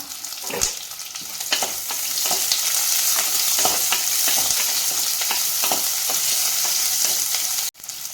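Sliced small onions (shallots) sizzle and fry steadily in a pan, with a bright crackle throughout and occasional scraping stirs, and no talking.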